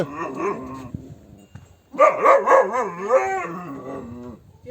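Dogs howl in a drawn-out, wavering chorus, starting moderately, pausing briefly, then rising louder with several overlapping howls and a few yips, fairly close.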